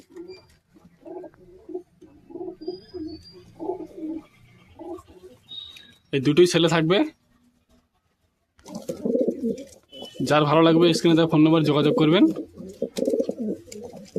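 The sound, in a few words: pigeons cooing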